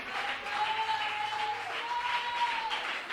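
Church congregation applauding during a Spanish-language sermon, a steady even patter of clapping that holds at moderate level throughout, with faint sustained tones running underneath.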